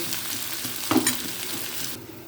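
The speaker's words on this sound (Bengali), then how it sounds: "ভেজে নেব আলুগুলোকে আমি ঢাকা দিয়ে দিয়ে ভাজছি" Steady crackling sizzle of potatoes frying in a covered pan, with a brief clatter of stirring near the middle; the bright hiss drops off toward the end.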